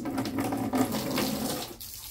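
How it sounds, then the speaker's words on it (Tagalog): Water runs and splashes from a tap or container while dirty water in a geese enclosure's water container is changed, a close steady rushing that drops away abruptly near the end. "Papalitan natin tong tubig nila,"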